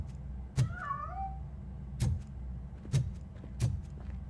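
A cat meows once in a short rising-falling cry inside the RoboCop Rogue City video game, followed by several sharp thuds or footsteps against a low steady background hum, with no talking.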